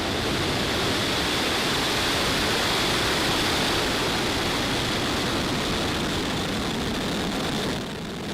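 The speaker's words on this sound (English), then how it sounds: "Ignition and liftoff." Falcon 9 rocket engines igniting at liftoff, a dense, continuous broadband roar that stays loud and steady throughout before easing slightly at the very end, with no voices.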